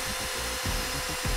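A drill with a carbide bit bores a hole in metal, a steady, loud, close whine with rhythmic pulses as the bit bites, and no talking.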